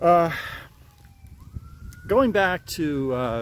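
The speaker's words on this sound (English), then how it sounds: "You can hear, I don't know if you can hear the siren in the background" A faint emergency siren wails in the distance, its rising and falling tone running thinly beneath someone speaking close by.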